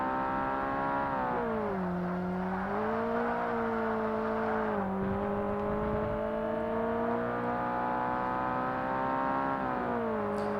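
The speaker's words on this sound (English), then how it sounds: "The engine on that Boxster sounds so weird." Porsche Boxster engine in the video game Forza Motorsport, a steady droning whine with a few dips and climbs in pitch as the car shifts and accelerates, with no talking.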